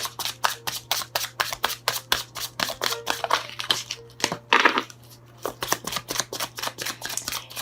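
Tarot cards being shuffled produce a steady run of crisp, papery riffles and snaps, rhythmic and close.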